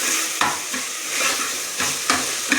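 Tomato and onion frying in a pan with salt for chicken masala, a steady close sizzle broken by several sharp scraping strokes of a spoon stirring, no talking.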